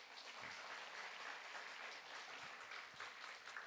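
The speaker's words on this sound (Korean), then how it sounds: "그런데 오늘 박수 한번 더 합시다." A congregation at a university chapel service claps together in a continuous, even round of applause, fairly faint and distant-sounding, running steadily from start to finish without speech.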